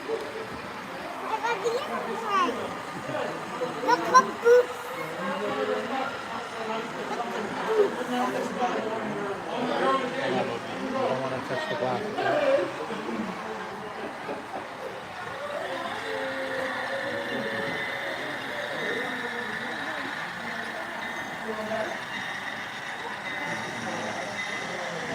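A train runs past at a railroad open house, a low, fairly quiet rolling rumble beneath crowd chatter and nearby talk, settling into a steadier hum toward the end.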